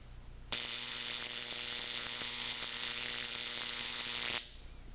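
A high-voltage discharge crackles and buzzes steadily about an inch from a wire mesh, switching on abruptly and cutting off after four seconds. The hiss is loud and bright, with a faint hum left underneath.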